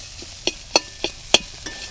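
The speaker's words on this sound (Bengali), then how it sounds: "আলু সেদ্ধ আলুটা দিয়ে নাড়াচাড়া করে" Boiled potato being stirred into fried spice mix in a pan, a few sharp spatula scrapes and taps spaced roughly a quarter second apart over a faint sizzle.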